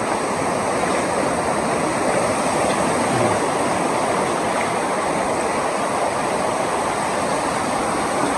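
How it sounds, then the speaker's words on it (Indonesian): Big sea waves at Telisai beach in Brunei make a constant, loud roar of surf and rushing water with wind noise that fills the whole stretch, and no voices are heard. "Besar ini ombaknya, Dek. Ombaknya besar tuh."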